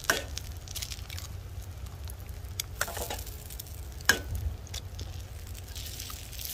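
Eggs fry in a pan over a campsite fire, hissing in a steady sizzle broken by a few sharp pops and crackles, close up and with no talking.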